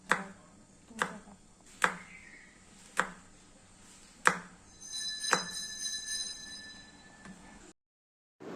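A knife dicing capsicum on a cutting board, six sharp, evenly spaced chops about a second apart, close and clear, followed by a faint ringing tone and then silence.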